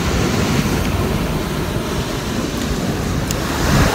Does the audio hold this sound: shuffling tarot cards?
no